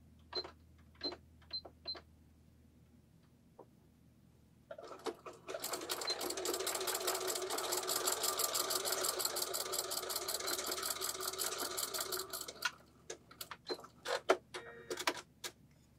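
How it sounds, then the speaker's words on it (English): A sewing machine stitches elastic together for a pencil skirt with a 3/8 inch seam allowance, running steadily for about eight seconds between short clicks and handling sounds, close and clear with no talking. "we're going to sew our elastic together"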